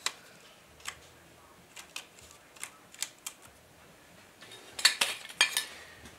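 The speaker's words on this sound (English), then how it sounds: "So, we're going to put a gasket on." Metal parts click and clink while a gasket is fitted onto a Willys Jeep rear axle, a series of small, sharp taps spaced apart, growing busier near the end, with no talking.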